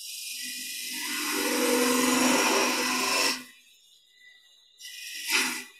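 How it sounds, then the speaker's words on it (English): Wood lathe turning a candlestick as a gouge cuts a cove, a loud steady broadband cutting whir for about three seconds, then a pause and a shorter burst of cutting near the end. "just clean up that bottom piece there with a passing cut with a gouge, and then I can cut my cove"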